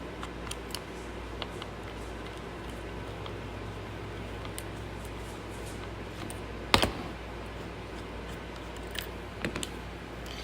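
Screws taken out of the rear LCD cover of a broken laptop hanging by one hinge, giving small faint clicks and ticks of a screwdriver and parts, with one sharper clack midway, over a steady hum.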